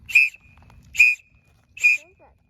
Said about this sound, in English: So we've got the little emergency whistles.